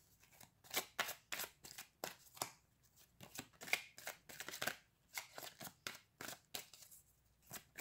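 Cards from an angel oracle deck are shuffled and drawn in a quiet room, with a string of soft, crisp riffling and snapping bursts in an uneven rhythm and no talk.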